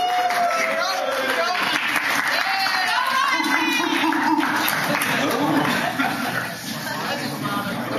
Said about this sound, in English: an applause for both these guys